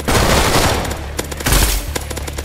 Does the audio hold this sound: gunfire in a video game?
yes